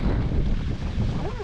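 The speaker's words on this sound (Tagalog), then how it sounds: "Hangin guys." Strong wind buffeting the microphone outdoors during cooking, a steady low roar that fills the clip with no clear talk.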